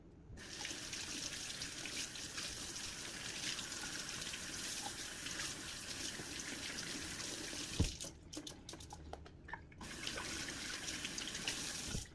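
Tap water runs steadily into a sink while an aquarium filter for betta fish is rinsed by hand, a continuous close splashing hiss with a brief clatter and short break near the end.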